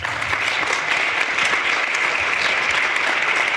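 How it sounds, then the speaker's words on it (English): An audience at a panel discussion applauds loudly and steadily, a dense, even patter of many hands clapping throughout. "give our panelists a round of applause again"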